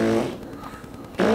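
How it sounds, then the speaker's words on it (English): A low, sputtering fart lasting about a second, fairly close, framed by brief voices at the start and end. "Did you just fart"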